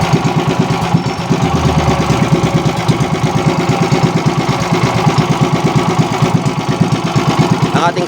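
A Honda 155 engine with its carburetor idling, a close, steady rapid chugging pulse that holds even throughout.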